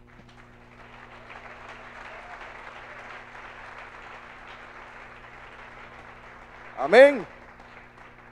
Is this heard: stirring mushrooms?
no